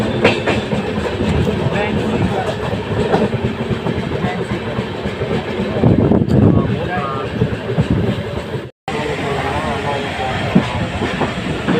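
A train travels from Ayodhya toward Ujjain in Madhya Pradesh, its loud, steady rumble and wheel clatter filling the air. A voice speaks over it, and the sound cuts out briefly near the end.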